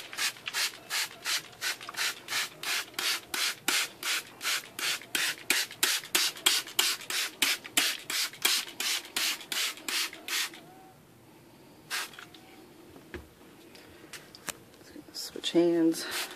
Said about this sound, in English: now I gotta spray my vinegar solution again everywhere